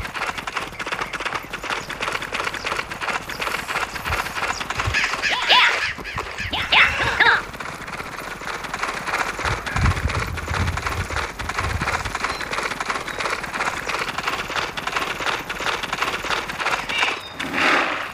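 Hooves of a galloping horse in the video game Six Guns drum in a steady clip-clop beneath a dense game soundscape, with brief sharper effects breaking through.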